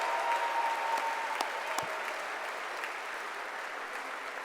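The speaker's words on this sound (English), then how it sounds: "Big round of applause for Mike Tirico" Audience applause fills a hall during the Illinois Athletics Hall of Fame gala, a steady, dense clapping from a large crowd heard from a distance, holding evenly through the clip with no voices over it.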